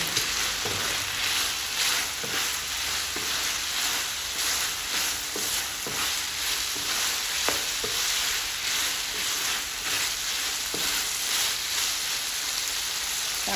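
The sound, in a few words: stir-frying pork belly in a pan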